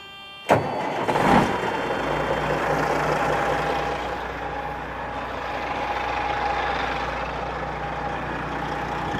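A cabover truck fitted with active exhaust cranks and fires up indoors in a shop building with a sharp start, then settles into a steady, rumbling idle that continues for several seconds.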